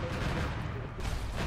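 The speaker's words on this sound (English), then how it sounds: "Oh! Artillery." Artillery fire in the Arma 3 Warhammer 40K game rolls as a heavy, loud booming rumble that fills the brief moment without pause.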